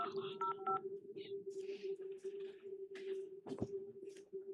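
A short run of touch-tone telephone dialing beeps near the start as someone calls Access Retirement Services during an employee pension committee meeting, followed by a steady hum, soft rustling and a sharp knock.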